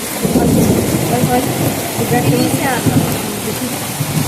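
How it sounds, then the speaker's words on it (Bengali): Heavy morning rain pours down steadily in a loud, dense wash, with rolling thunder rumbling low underneath throughout, close and continuous. "জোর বৃষ্টি হচ্ছে"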